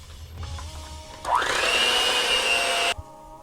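An electric mixer whirs steadily for under two seconds while vegetable oil is blended into mango cake batter, starting abruptly and cutting off cleanly, with quiet room sound on either side.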